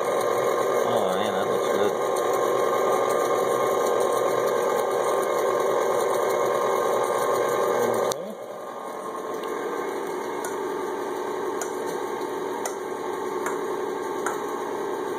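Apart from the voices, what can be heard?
electric mixer blending chocolate Coca-Cola cake batter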